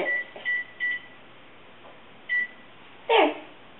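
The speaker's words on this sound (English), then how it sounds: "So please set a timer for 8 minutes." A kitchen timer gives a few short electronic beeps while being set to 8 minutes for creamy orzo risotto, spaced out singly and in pairs, then a brief louder clatter near the end, in a quiet kitchen.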